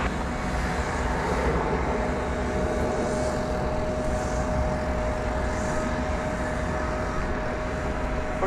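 A Boeing 767 airliner at Dallas/Fort Worth airport: a constant broadband engine roar with a steady tonal hum running beneath, moderately loud and unbroken, with no voices.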